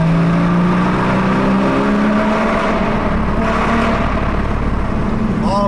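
Stock-exhaust Porsche Cayman GT4 with a naturally aspirated 3.8-liter engine driving through a tunnel, a loud, sustained engine drone whose tones shift and climb, filling the space nearby.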